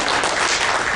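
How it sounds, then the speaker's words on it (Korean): Audience members at a policy forum on arts and culture for disabled children applaud, a brief, loud, dense burst of many hands clapping together. "많은 박수 다시 한번 부탁드리겠습니다."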